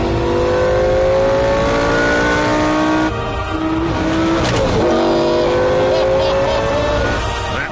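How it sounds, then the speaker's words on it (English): A 5-litre Italian V10 with 512 horsepower revs hard and loud, rising through the gears in long climbing wails, briefly dipping before surging again, close to the listener. "The sound of a 5-litre V10 engine."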